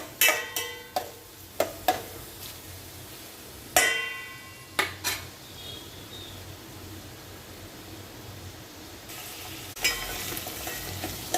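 Colocasia (taro root) and onions frying in a pan at home, stirred with a utensil: a steady low sizzle runs throughout, punctuated by a handful of sharp scraping clacks in the first five seconds and again near the end, with no talking.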